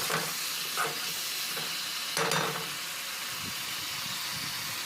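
Spices and Kashmiri chili frying in a pan for katla fish curry give a continuous close sizzle and hiss, with a few scraping stirs. No one speaks.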